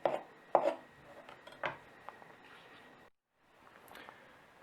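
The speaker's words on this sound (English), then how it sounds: "or if you're a bit more proficient, chop them up like that" Knife chopping vegetables on a board in a home kitchen, a few sharp close cuts in quick succession at the start, then softer scraping and a brief pause.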